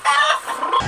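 A voice imitating a pigeon, one brief warbling, cooing call under a second long, close and fairly loud.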